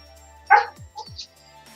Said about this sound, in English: I hear the dog answering.